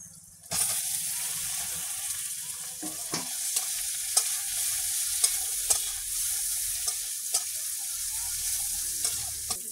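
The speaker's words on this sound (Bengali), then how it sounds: "আলুগুলো দিয়ে দেবো।" Potatoes dropped into hot oil in a pan, bursting into a sudden loud sizzle that holds steady, with occasional stirring clicks, close up.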